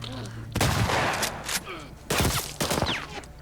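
Shotgun blasts from The Last of Us Part II, several loud booming shots in separate bursts with a brief low voice underneath.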